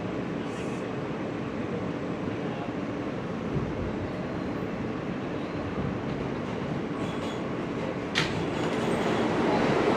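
A New York City subway express train runs with a steady, loud broadband rumble and rattle throughout, rising slightly near the end with a brief screech.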